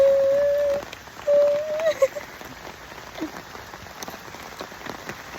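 Rain falls as a soft, steady patter with scattered drops, faint and diffuse throughout, while a short whistle-like tone sounds twice near the start.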